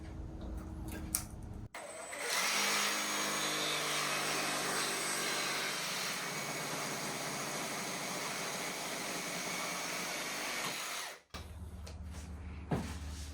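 Power saw cutting a DIY roof rack for a Ford Transit van along clamped guides, a loud, steady whining roar lasting about nine seconds, framed by brief handling noises before and after.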